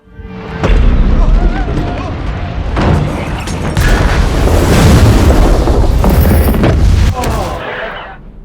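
A loud, rumbling bomb explosion from the film Arrival booms and roars for several seconds, a heavy sustained blast with debris-like crackle that fades at the end, with voices briefly heard.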